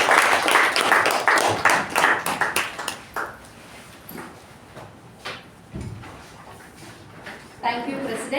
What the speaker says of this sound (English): With a thunderous round of applause, please welcome the Toastmaster of the day